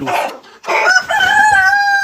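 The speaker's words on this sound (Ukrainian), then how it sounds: "вон півник маран і курочка маран" A Marans rooster crows loudly and close by in two bursts, with Marans hens clucking alongside; no talk.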